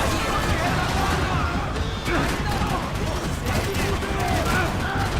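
Rapid video game gunfire crackles in dense, continuous bursts alongside crashes and impacts, a loud, busy battle with no voices over it.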